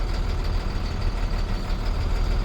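A truck engine drones low and steady while the truck is driving, a continuous heavy rumble with no voices.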